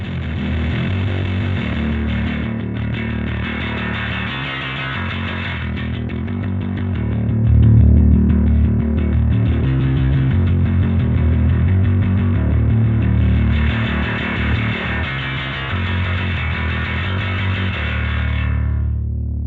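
Bass guitar played through an 0xEAE Bass Driver pedal with its notch filter engaged, giving a thick, driven, distorted tone that swells louder midway and then cuts off at the end, with no talking.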